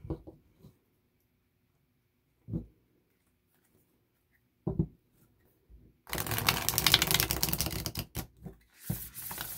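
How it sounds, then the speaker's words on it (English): A few soft shuffling taps with long pauses, then a loud sustained riffle of thin, flexible tarot cards being shuffled, close by and with no talking. "Let's do a first shuffle"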